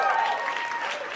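A stand-up comedy audience claps in a steady wash of applause, with a voice heard over it throughout the brief moment.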